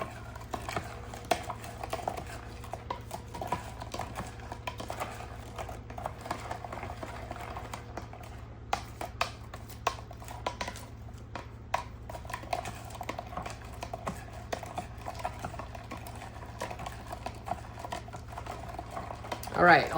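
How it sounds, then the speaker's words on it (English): Goat's milk soap mixture is stirred in a pot with a steady, soft scraping and swishing that continues throughout. It sounds quiet and close, with a low hum underneath and a faint clink near the end. "let's continue to stir"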